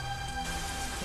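Steady rain falls throughout, a dense, continuous hiss of drops on surfaces outside a small home, with a low rumbling undertone and no speech.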